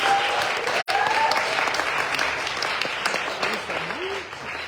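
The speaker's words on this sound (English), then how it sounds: "please give them a round of applause" A room of people applauds the female team, steady dense clapping that runs nearly throughout with a brief break, and some voices are heard among the claps.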